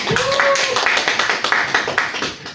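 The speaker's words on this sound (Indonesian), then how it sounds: "Beri aplaus buat Ica." Students in a classroom clap for their classmate Ica, a quick run of brisk, fairly close claps in an even rhythm, with a voice briefly audible at the start.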